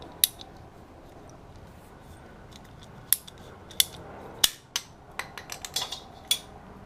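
A length of conduit for a loop has its join cut off, giving a series of sharp, crisp snipping clicks, sparse at first and then in a quick cluster near the end, close and alone without talk.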